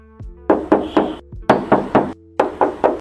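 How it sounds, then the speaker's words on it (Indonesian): Knuckles knock on the white body panel of a 2011 Mazda 2 R automatic, in three loud close bursts of two to three sharp, ringing taps, separated by short pauses. "Kita tes ketok dulu bagian cupnya."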